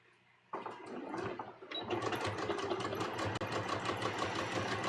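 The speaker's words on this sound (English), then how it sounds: "I'm going to start stitching" A sewing machine runs along the neckline of a bias-cut V-neck dress, starting with a brief whir, pausing, then settling into a loud, continuous stitching drone that fills the rest of the stretch with no talk.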